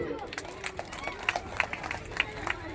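Crowd clapping at an outdoor Kannada Rajyotsava celebration in Nayakanahatti, a steady patter of applause with sharper individual claps standing out, mixed with general crowd murmur.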